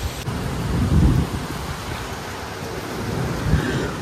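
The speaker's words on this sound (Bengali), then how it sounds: "পুরো সেই আমফানের মতন ঝড় উঠে গেছে একদম" Heavy rain roars steadily as broadband noise while a deep rumble of thunder swells early and again near the end. No voices.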